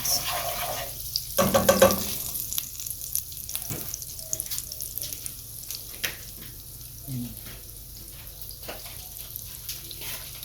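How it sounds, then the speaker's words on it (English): A tablespoon of butter melts in a pot, giving a low, steady sizzle with a brief louder burst near the start, plus light scraping and faint kitchen clatter. "And about a tablespoon of butter. I'm just melting this out around the pot."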